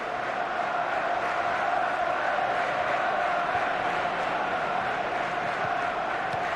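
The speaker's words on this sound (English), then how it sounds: "Look at the crowd, they're absolutely on their feet." A stadium crowd in the video game FIFA 14 roars steadily and loudly throughout, a dense continuous wall of cheering with no breaks.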